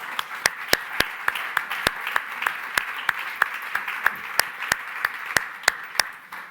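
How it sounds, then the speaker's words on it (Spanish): Scattered, evenly spaced hand claps from an audience at a public talk, fairly quiet and steady over several seconds, with a soft hum of room noise beneath. "Entonces, un aplauso,"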